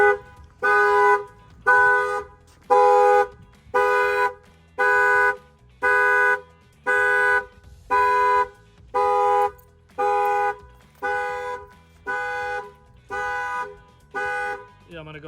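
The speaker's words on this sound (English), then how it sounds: "I'm gonna get ready to bang on the window and you're gonna see that the alarm's gonna set off." The car alarm on a Dodge Challenger Demon blares a loud, evenly spaced horn honk, about fourteen regular blasts of roughly half a second each with short gaps between, sounding alone throughout.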